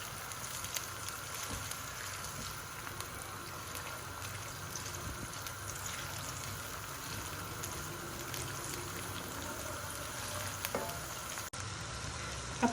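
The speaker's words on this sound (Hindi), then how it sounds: "और इसको भी हम 1 से 2 मिनट के लिए फ्राई करेंगे ताकि इसका कच्चापन ख़त्म हो जाए।" Aloo gobi masala frying in a pan, a steady dense sizzle with faint crackles and occasional stirring knocks, close and continuous, with no talk.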